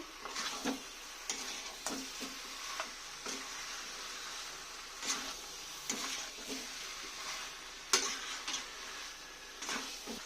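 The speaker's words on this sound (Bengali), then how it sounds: "দিয়ে একটু ভালো করে আলুর সঙ্গে মশলাটা কষে নেব।" Fried potatoes and spices are stirred in a pan for a mutton dry dish, a soft steady sizzle broken by regular scraping and tapping strokes of a spatula against the pan.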